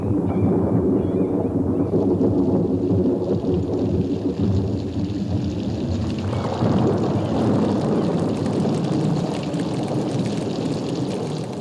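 A continuous roar of wind and rain with a deep thunder rumble swelling partway through, loud and unbroken, no voices, during a storm in wild chimpanzee habitat.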